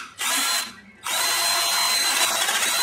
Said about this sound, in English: we'll use this battery-operated drill so I don't break my arm like I did last year